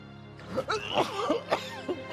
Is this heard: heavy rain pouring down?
no